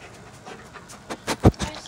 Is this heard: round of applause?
no